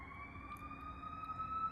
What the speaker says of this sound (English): a siren is passing by